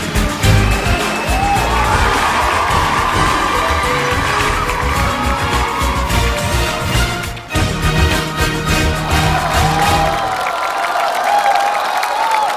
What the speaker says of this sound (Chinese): 让我们再次把掌声送给他